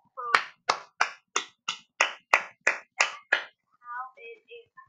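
A single person claps their hands about ten times in a steady, close, distinct rhythm. A short burst of quiet voice follows after the claps stop.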